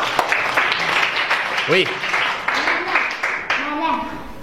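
A French-language primary classroom with children clapping briefly for a classmate, a short patter of applause mixed with a teacher's voice and children speaking over it.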